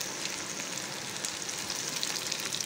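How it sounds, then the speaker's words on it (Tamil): Tomatoes sizzle in a pan for nethili karuvadu thokku, a dense, even crackling fry that holds steady throughout with no voices. "இப்போ தக்காளி சேர்த்துக்கலாம்"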